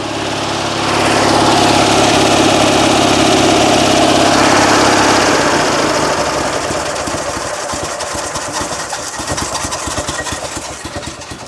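Invacar engine with a sticking choke, running loud and close with a rough, throbbing drone that shifts in pitch partway through, then settles into a choppier, pulsing idle.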